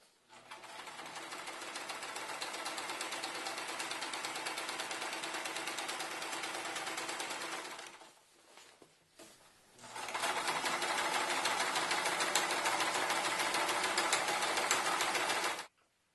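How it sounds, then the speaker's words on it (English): A sewing machine stitching steadily at high speed, a loud continuous whirring run of about eight seconds that briefly stops, then starts again for another five seconds; no voices. "That's how you make a curved line into a straight line when sewing."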